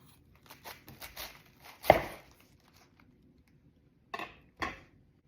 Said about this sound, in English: You'll want to cut out the core.